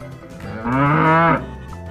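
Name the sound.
bull mooing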